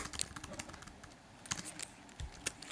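Quiet computer keyboard typing in scattered bursts of soft clicks with pauses between, close but faint, no speech.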